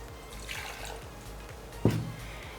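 Apple cider vinegar pours into a jar with a soft liquid trickle and a brief splash, over a faint steady kitchen hum.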